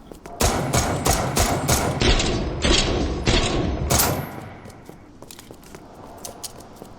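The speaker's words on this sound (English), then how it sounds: "Now for the next handgun, Ada's Broom HC." Ada's Broom HC handgun fires in Resident Evil Re:Verse, a quick series of loud, sharp shots in an uneven rhythm, followed by softer thuds and clatter as the shooting stops.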